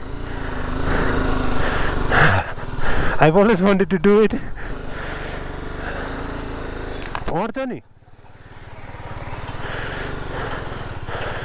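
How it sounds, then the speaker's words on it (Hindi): Motorbike engine running steadily through a ride onto a suspension bridge over a pond on the India to Nepal route toward Mustang, with a brief drop as it rolls on, while voices talk excitedly over it. "I wanted to ride my bike"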